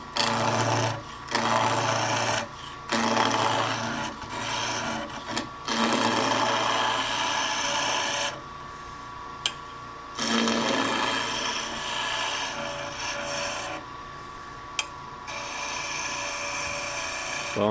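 A wood lathe turns handles held in a chuck while a chisel makes repeated peeling cuts, giving bursts of scraping, hissing noise over a steady motor hum, separated by brief pauses.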